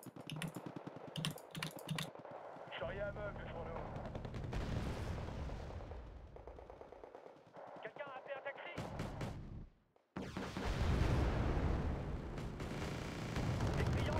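Gunfire, explosions and battle noise from the Cold War real-time strategy game Wargame: Red Dragon, with a Eurocorps force on the Plunjing Valley map, loud and continuous across the span, mixed with keyboard typing and clicks, with a brief drop near the end.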